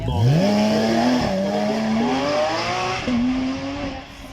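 Supercar with a 5.2 litre turbo V12 on a demonstration run at a supercar weekend, revving hard and loud and close, the engine note climbing in pitch through gear changes with a brief lift between pulls.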